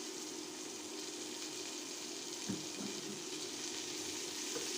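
Frozen green chillies added to a pan with dried shrimp, a faint, steady frying sizzle with one soft stirring knock.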